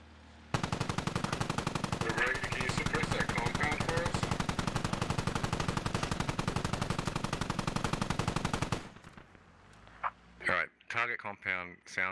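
Heavy machine gun fire in the military shooter SquadOps, a long sustained burst of rapid, loud shots lasting several seconds, followed by a quieter stretch with radio-style voices talking.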